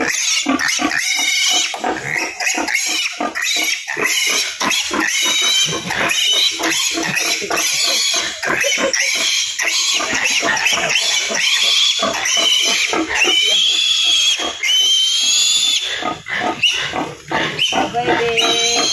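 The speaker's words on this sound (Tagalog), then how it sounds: "Ako pala ang huling makakagdala ng baboy." A pig squeals and oinks loudly and close, a long run of shrill, frantic cries and grunts with barely a pause, voices faintly mixed in.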